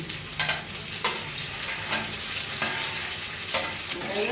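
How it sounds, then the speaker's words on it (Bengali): Chopped capsicum drops into an already sizzling pan of onions for chilli paneer, a loud, steady frying hiss broken by several sharp bursts as pieces hit the hot oil and get stirred. "দেখুন ক্যাপসিকামগুলো দিচ্ছি"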